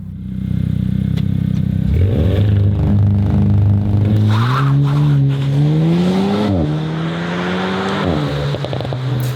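A 2023 Alpine A110 R sports car engine revs and accelerates hard, pitch climbing through gear changes, close and dominant with no talking.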